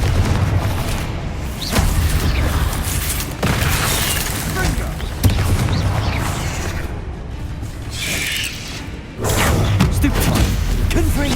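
Repeated booming bursts from Confringo fire spells in the game Hogwarts Legacy, loud blasts arriving every couple of seconds over dense, continuous game noise.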